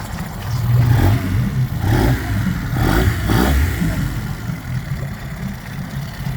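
A 2018 Mercury 115hp ProXS outboard idles with a low, uneven engine rumble while its exhaust bubbles in the water, pulsing every second or so at steady close range.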